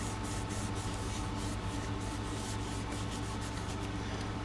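A fingertip rubs across a paper craft card, a faint dry scratching in quick repeated strokes over a low steady background hum, with no speech.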